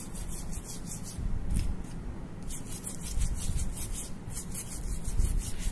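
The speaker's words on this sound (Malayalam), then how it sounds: "നന്നായിട്ട് ബ്രഷ് കൊണ്ട് ഉരയ്ക്കുക." A brush scrubs steadily back and forth over skin to remove sun tan, making a continuous close-up rasping rub with even strokes and no talk.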